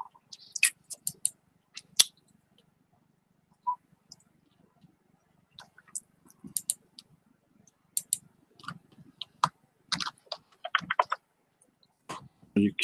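Scattered keyboard clicks and key taps in irregular bursts, with quiet gaps and a low hum underneath, close and moderately loud.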